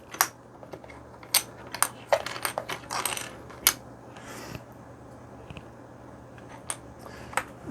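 Spare keyboard keycaps for a Keychron K10 HE are dumped out of a bag, making a quick burst of light plastic clattering and scattered clicks, then a few isolated taps as they settle.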